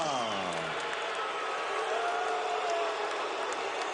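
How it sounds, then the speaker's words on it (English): A boxing arena crowd roars and cheers as the winner of Oscar De La Hoya vs John Molina is announced: a dense, loud, continuous wash of massed voices that holds steady without a break. "The crowd goes wild as the winner is announced."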